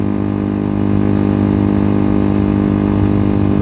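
Megelli 250R motorcycle engine while riding, a steady loud droning hum with strong low harmonics holding constant throughout, no voices.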